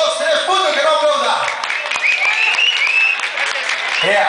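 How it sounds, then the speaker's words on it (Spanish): An audience at a 5 de Mayo award ceremony in Santa Cruz Xochitepec breaks into loud, sustained applause, with dense clapping and scattered whistles and shouts rising over it. "que se siente, que se escuche bonito el aplauso"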